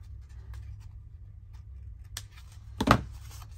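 Scissors snip through a paper journal card while trimming off its white edge, giving a couple of crisp cuts near the end after a quiet stretch of low room hum.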